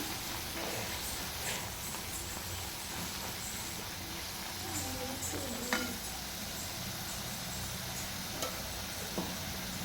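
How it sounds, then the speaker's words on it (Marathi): Spoon stirring turmeric, salt and homemade garam masala into a sizzling pan of lentils, with a continuous low crackle and occasional soft scrapes and taps, no voices. "हळद चवीनुसार मीठ घरगुती गरम मसाला आणि छान मिक्स करून घेऊया"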